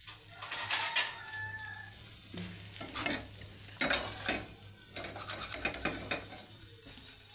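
An egg frying in a pan gives a steady sizzle with scattered bursts of spatter and scraping stirs, close and moderately loud, with no talking.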